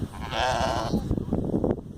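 A sheep gives one loud, wavering bleat close by, followed by scuffling and shuffling noises.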